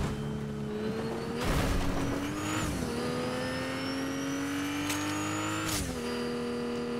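A car in the video game Fortnite drives along with a steady engine drone that rises and dips as it revs and shifts, close and continuous, with a couple of sharp bumps or impacts.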